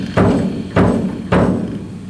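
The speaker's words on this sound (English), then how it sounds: "A bass drum," Three deep, resonant thumps from the bass drum of an American Fotoplayer theatre instrument, struck at an even, unhurried pace, each with a short booming decay, heard close and alone.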